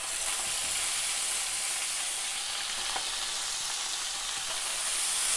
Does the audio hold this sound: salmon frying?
yes